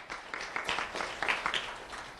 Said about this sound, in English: Round of applause for Destiny Villanueva Favela.